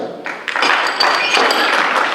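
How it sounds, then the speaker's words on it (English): An audience at a powerlifting meet applauds a lifter, a burst of clapping that starts with a few scattered hands and quickly thickens into steady, close applause with some thumps. "please give him a clap when he comes out"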